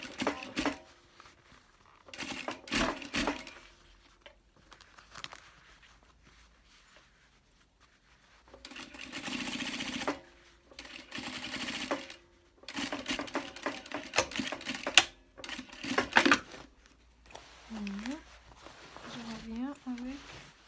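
A sewing machine stitches along the old seams of a trouser zipper in several separate runs, starting and stopping between pauses, with a voice speaking briefly near the end.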